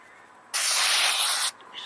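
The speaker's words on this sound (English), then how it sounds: "Spray some on a rag like so." A can of cheap brake cleaner sprays onto a rag in one steady, loud hiss lasting about a second, then cuts off sharply, set in a quiet garage during a Mercedes alternator repair.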